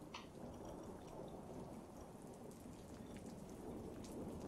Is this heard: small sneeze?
no